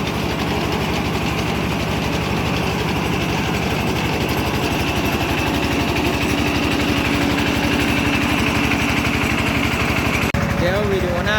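A well drilling rig engine drones steadily and continuously at close range in Laos, a low mechanical rumble with a faint whine on top.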